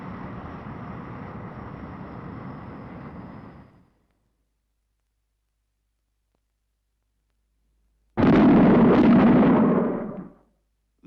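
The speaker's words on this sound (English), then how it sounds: "Those bangs were shock waves from an aircraft in transonic flight." Shock-wave bangs from an aircraft in transonic flight: two loud, heavy booming bursts, each rumbling on for a few seconds, separated by complete silence.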